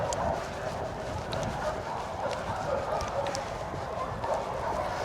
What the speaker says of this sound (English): lots of barking dogs